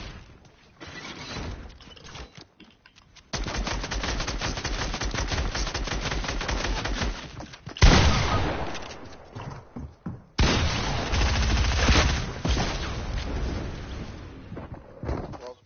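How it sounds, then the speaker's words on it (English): A grenade launcher fires in a video game in rapid, loud bursts that repeat with short pauses between them, with no voices over the shots. "World's best grenade launcher."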